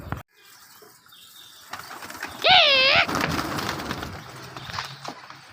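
Pet pigeons in a home loft give a short burst of throaty, wavering cooing amid a little rustling and movement, while someone talks nearby.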